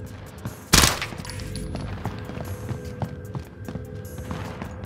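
Gunfire in the Warzone video game while the player runs, one loud burst near the start followed by quieter rapid pops and footstep-like patter, no talk.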